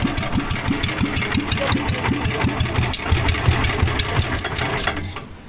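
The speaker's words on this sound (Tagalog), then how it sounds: "Hina ng motor." A motor engine runs steadily, its rapid, even pulsing mid-range chug close and loud and continuing throughout, with a faint rhythmic ticking over it and no talk.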